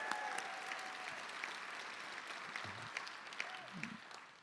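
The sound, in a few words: audience applause for sponsors at benefit luncheon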